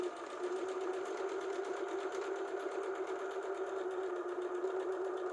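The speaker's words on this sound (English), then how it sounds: "And just keep sewing all the way down." A sewing machine stitches a seam down a zippered pillow, running continuously at an even speed with a steady mechanical hum and fine rapid chatter, close by and alone.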